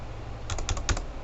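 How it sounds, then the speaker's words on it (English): Keys clack on a computer keyboard in a quick burst of about five or six taps, close and crisp over a steady background hiss, with no talking. "all you need to do is just click and start typing"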